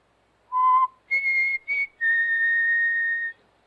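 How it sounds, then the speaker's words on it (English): A person whistles a short tune: four clear, loud tones alone against silence, three brief notes followed by one long held note. "I just whistle."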